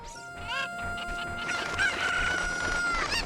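Chickens in a Zelda video game clucking and crowing loudly, with repeated squawks and a drawn-out rooster-like call over a busy game background.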